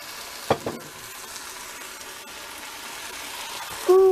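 Chili mac with pork sausage being stirred in a hot pan, a steady low sizzle under a couple of brief scraping clatters from the utensil near the start and a louder scrape at the end.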